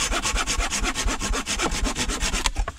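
A Silky Gomboy folding saw cuts through wood at an abandoned farmhouse bushcraft camp, with steady, rapid back-and-forth strokes close to the ear, each rasping pass evenly spaced and loud, with no talking.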